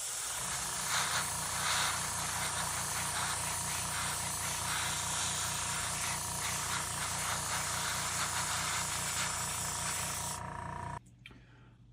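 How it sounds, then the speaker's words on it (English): Airbrush spraying base coat onto a plastic model starship, a close, steady hiss backed by a low humming compressor that runs continuously for about eleven seconds before cutting off abruptly. "we're going to airbrush it again in our base coat"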